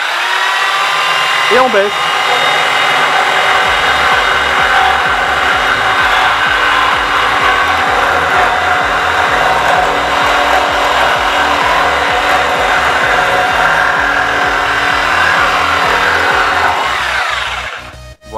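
A Parkside 710W reciprocating saw from Lidl cuts through wood with a loud, steady rapid buzzing and a rhythmic sawing stroke, running almost twenty seconds before stopping abruptly; a brief voice is heard near the start.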